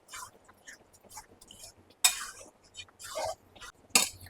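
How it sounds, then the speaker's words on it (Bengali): Chicken chaap being sautéed in a pan, with a spoon scraping and clinking against metal in irregular bursts, a few louder strokes standing out over a quiet, faintly hissing background. "এটা এবার একটু ভালো করে কষিয়ে নিই।"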